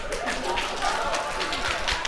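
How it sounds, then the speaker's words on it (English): Audience members in a talk hall clap hands together in pairs as fast as they can, a dense, steady patter of many quick overlapping claps from a crowd, with voices mixed in. "clap with that other person using one hand as fast as you can"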